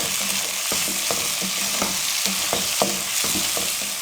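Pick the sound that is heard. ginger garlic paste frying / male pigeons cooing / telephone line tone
ginger garlic paste frying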